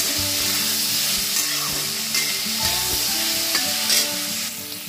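Chopped capsicum and onion fry over low heat in a pan, giving a steady, close sizzle with occasional stirring clinks and scrapes throughout, and no voices.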